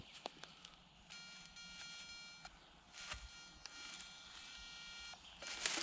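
Faint electronic tones chirp and hum from a metal detector, starting and stopping, mixed with soft rustling and scraping sounds outdoors.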